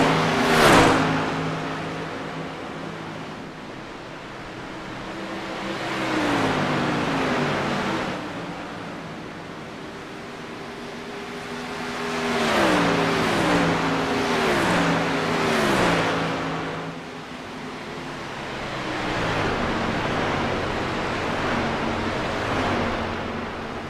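Race cars in the iRacing sim's Silver Crown Cup at Nashville Superspeedway, engines droning steadily with periodic swelling pitch sweeps as cars pass close and fade, no talk.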